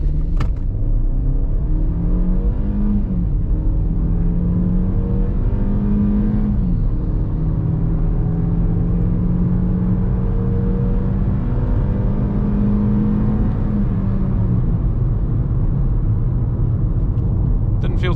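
A Hyundai i30 with a 1.5-litre, 105-horsepower engine accelerates from 0 to 100 in sport mode. Heard from inside the cabin, the engine drones loud and steady, its pitch rising through each gear and dipping at the shifts.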